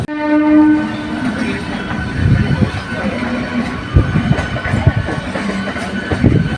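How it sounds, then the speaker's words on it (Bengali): The Howrah–Katwa local pulls out of Howrah Junction mid-morning, bound for Nabadwip. A loud horn blast opens, followed by the close, rhythmic clatter of wheels over rail joints as the train gathers pace. "আমাদের ট্রেন এখন হাওড়া জংশন থেকে নবদ্বীপের পথে ছাড়লো"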